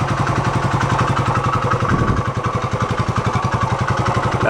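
A 1972 Honda SL 125 motorcycle engine runs steadily at a fast idle, a close, even single-cylinder putter with a brief dip partway through, alone without speech.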